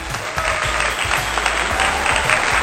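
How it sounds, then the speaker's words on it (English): Sustained applause from a crowd, steady clapping filling the whole moment without a break. "Let's give them a round of applause."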